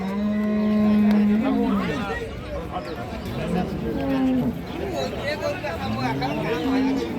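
Cattle, dairy cows and calves at the Ambari livestock market, low drawn-out moos rising and falling, three or four calls in a row, over crowd babble and someone speaking.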